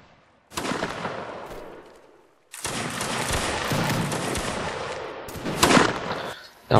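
Musket fire in a Mount & Blade: Napoleonic Wars league match, sharp volleys of shots arriving in two loud stretches separated by a short near-silent gap, close and crackling, with no talk over them.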